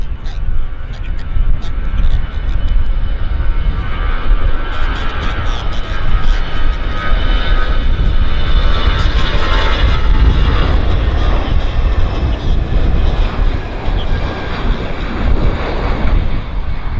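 Korean Airlines airliner at Vancouver Airport, a loud continuous jet engine roar with broad rushing noise, steady and close throughout, with faint talk underneath.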